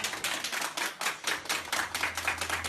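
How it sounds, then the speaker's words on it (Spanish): Rhythmic clapping rings out as applause for frontline hospital ICU workers, a steady run of sharp claps from a group, moderately loud and without talk. "homenaje sincero y cargado de aplausos a aquellos que están en primera línea"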